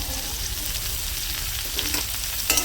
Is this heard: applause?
no